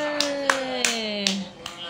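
Several hands clap in a short, uneven round of applause, sharp and close, with a voice heard in the background.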